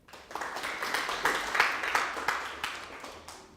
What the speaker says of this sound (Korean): 또 박수 한번 치실까요?